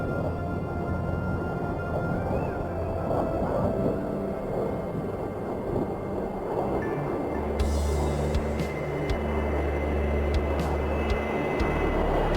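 Jet engine of an F-4E Phantom taxiing in a Heatblur flight simulator game, a steady broadband roar with a low rumble that deepens and strengthens midway, no talk over it.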